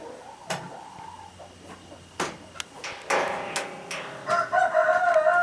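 A rooster on a small farm crows in the morning, the call rising toward the end over scattered knocks and clatter nearby.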